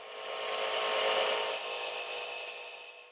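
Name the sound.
lathe tool cutting wooden bowl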